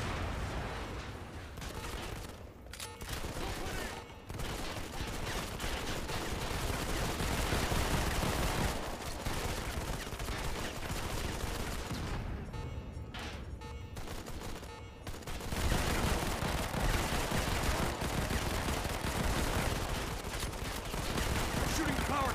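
Sustained gunfire from a Modern Combat 5 mission as power cells are shot, with dense continuous bursts and heavy booms filling the whole stretch, near and loud, and a voice heard under the shooting.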